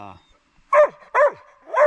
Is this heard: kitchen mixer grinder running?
no